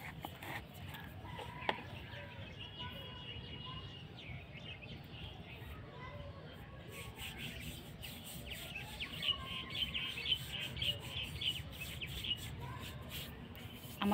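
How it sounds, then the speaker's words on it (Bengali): Outdoor ambience among trees and fields with a chicken clucking and scattered bird chirps, steady and moderately faint throughout, with a brief sharp sound near the start. "পাখিদের কিচিমিচির আওয়াজটা কিন্তু অল টাইম, সব সময় সারাদিন হয়ে থাকে, রাত্রেও পর্যন্ত থাকে"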